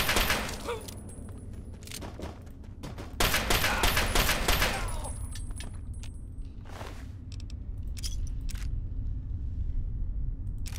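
Gunfire rings out in the video game Fallout 3: a close cluster of sharp shots lands in the first few seconds, followed by a couple of isolated reports over a steady game background.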